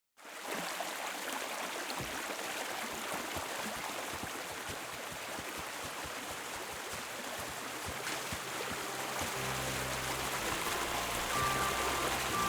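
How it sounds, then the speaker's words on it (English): Steady rushing water flowing through a cave passage in Kingdom Come: Deliverance II, a broad continuous wash with faint low rumbles, fairly close and unbroken by voices. "Usually there's only a small trickle running through here. The water must have risen."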